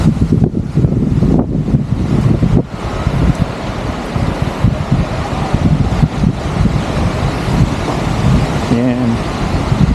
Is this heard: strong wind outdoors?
yes